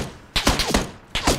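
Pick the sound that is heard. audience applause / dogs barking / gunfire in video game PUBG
gunfire in video game PUBG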